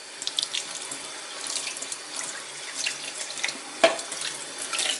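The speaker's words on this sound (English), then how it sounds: "So it's good to give it a good clean with your brush and then a good rinse." Tap water runs steadily into a kitchen sink as a dishwasher filter is rinsed under it, a close continuous splashing hiss broken by occasional louder splashes, with no talking.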